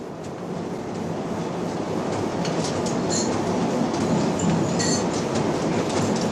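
Passenger train with a dining carriage rolling along rails, a steady close rumble with faint wheel clatter and brief high squeals, continuous throughout.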